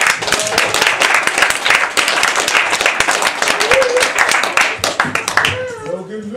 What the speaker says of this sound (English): So let me get a big round of applause for Luis.